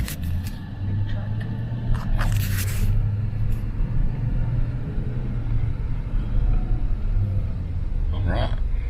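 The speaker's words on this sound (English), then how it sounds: "Big truck." A big pickup truck towing an RV drives along with a low, steady engine rumble and road noise from inside the cab, joined by a brief scrape and a voice speaking.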